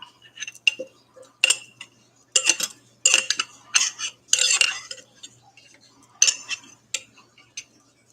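Residue being scraped from the bottom of a container while making a tincture, a series of short metallic scrapes and clinks in irregular bursts separated by quiet gaps.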